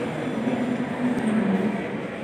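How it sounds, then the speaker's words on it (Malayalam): A steady low engine rumble with broadband noise from a Kochi Water Metro boat approaching a jetty nearby, continuous and fairly loud throughout. "ഒരു മെട്രോ ബോട്ട് ജെട്ടിക്ക് അടുത്ത് വന്നുകൊണ്ടിരിക്കുന്നുണ്ട്"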